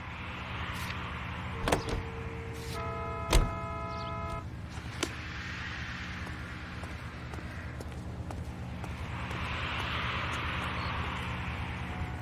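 A car driving in the 1940s Los Angeles of the video game L.A. Noire: a steady engine drone holds throughout, with a few clicks and thumps and a brief tonal chime partway through, and no talking.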